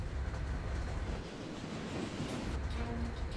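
A Southern Pacific freight train in the video game Trainz rumbles steadily with air brakes full on, a dense roar and faint wheel squeal, continuous and loud throughout.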